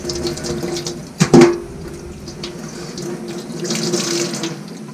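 Running tap water rinsing a DR650 motorcycle air filter, a steady close hiss of flowing water with a brief louder splash and clunk early on, then continued gentle flow.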